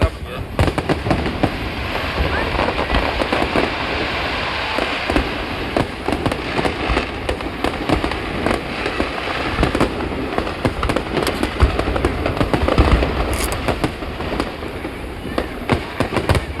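Fireworks crackle and pop continuously in dense, rapid bursts at a Chinese New Year display in Binondo, Manila, a steady barrage of sharp bangs with voices faintly mixed underneath.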